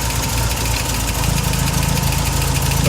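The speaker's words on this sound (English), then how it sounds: "now I'm going to let it idle for 15 or 20 minutes" A 1961 Triumph TR3A engine idling close by, a loud, steady rumbling throb with an even mechanical pulse and slight knock, continuous throughout with no talking.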